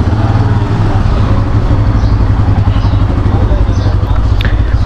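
Freshly serviced Bajaj motorcycle engine running steadily while riding, a loud continuous low rumble with wind noise, with talk over it throughout.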